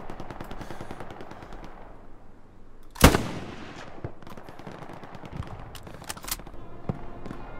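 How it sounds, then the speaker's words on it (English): Battlefield gunfire in the World War II shooter Hell Let Loose: scattered distant shots crackle throughout, with one loud nearby blast or heavy shot midway trailing off, and rapid bursts following. "There's definitely something shooting though."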